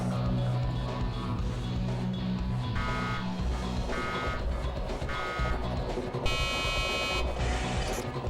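Repeated electronic warning beeps from a laser hazard in the video game Nine Breaker, sounding in short bursts over steady game music and noise, with a longer beep near the end.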